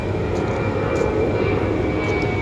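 A propeller airplane drones steadily overhead above a cemetery, a constant mid-loud engine hum with no other sounds over it.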